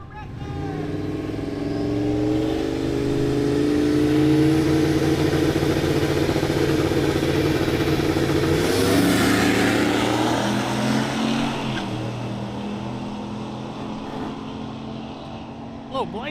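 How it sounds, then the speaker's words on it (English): A turbocharged Chevrolet Blazer accelerates down a drag strip, its engine note climbing steadily in a loud sustained roar, with an announcer talking over it. "Turbocharged Chevrolet Blazer over here in the left lane."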